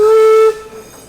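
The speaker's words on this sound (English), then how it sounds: "Train's about to cross right now." Train whistle at a railroad crossing inside a theme park, a single loud steady tone that sounds for about half a second, then cuts off and leaves a quieter rumble.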